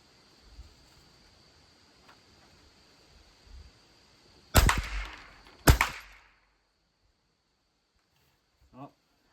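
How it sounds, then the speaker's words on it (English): Two sharp, loud shots from a Savage 64F rifle fired with open sights, spaced about a second apart, each followed by a short ringing tail against quiet outdoor ambience with a faint steady insect hum. "I'm just going to shoot it as is"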